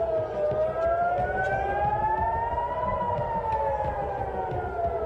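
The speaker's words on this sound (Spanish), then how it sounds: "escuchamos las sirenas efectivamente en Tel Aviv" Long wailing air raid sirens in Tel Aviv during an Iranian missile and drone attack rise and fall slowly, loud and sustained, with overlapping tones and no talking.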